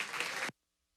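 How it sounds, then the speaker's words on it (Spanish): A church congregation bursts into dense, loud applause for half a second before the sound cuts off abruptly into silence. "dale ese aplauso a Dios"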